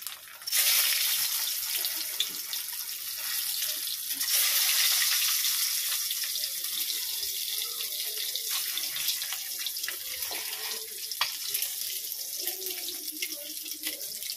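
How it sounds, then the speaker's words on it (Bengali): Halved boiled eggs frying in oil seasoned with salt and turmeric, a continuous bright hiss close by that swells and settles, with faint clinks and no speech. "ডিমগুলোকে না আমি একটু ভাজবো"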